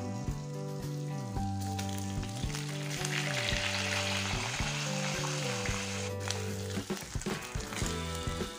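Pork chop frying in a pan, a steady close sizzle and crackle running throughout, with a brief scrape or clatter of a utensil near the end, no voices.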